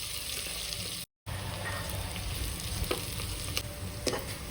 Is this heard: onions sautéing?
yes